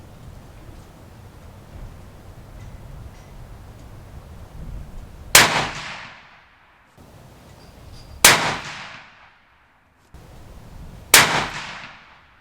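Three loud rifle shots from a Thompson Center Compass II chambered in .338 Win Mag at a shooting range, spaced a few seconds apart, each a sharp crack with a decaying echo over a low background rumble.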